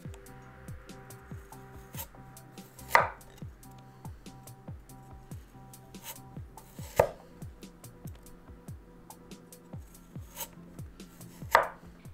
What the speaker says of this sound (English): slice the carrot crosswise into flower slices around 2 millimeters thick